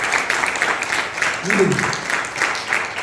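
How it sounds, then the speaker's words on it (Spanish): Church audience breaking into applause during a sermon, a fairly loud, steady patter of many hands clapping, with someone speaking briefly over it. "Denle un aplauso"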